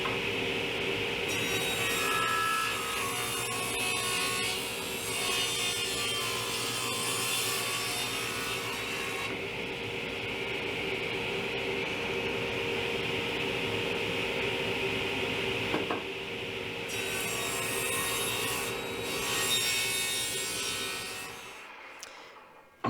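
Steady rasping scrape of a hand tool shaving down the sides of a live edge wood slab, a continuous rough rubbing that runs almost without pause, close and fairly loud, with no talking.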